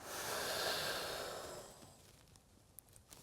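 Breathing in and out during a Ukrainian morning exercise routine with twisting elbow-to-knee movements: a long, breathy exhale fades over two seconds, followed by quieter room noise with a few small soft sounds.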